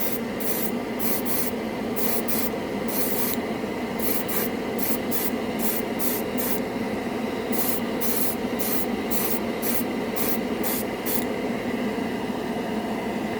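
An airbrush hisses yellow paint over red primer in a run of steady, loud bursts, the spray switching on and off in short pulses with no talk.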